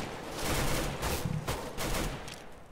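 Gunfire in Counter-Strike: Global Offensive, rapid bursts of automatic shots in quick clusters with short pauses between, fairly faint and heard without talking over it.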